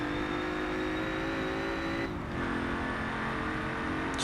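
A Ford Falcon XR8 A-Class race car in Forza Motorsport 7 holds a steady, droning engine note under load, with a brief gear-change dip midway before the tone climbs again.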